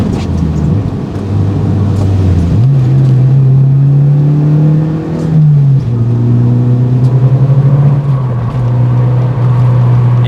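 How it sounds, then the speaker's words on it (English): Steady low drone of a car's exhaust through an aftermarket muffler mixed with tire road roar inside the cabin while driving, the engine note stepping up in pitch partway through as it accelerates and then holding level, continuous and loud with no talk. "All I hear are the tires and the muffler that we put in"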